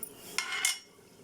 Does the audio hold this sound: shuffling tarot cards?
no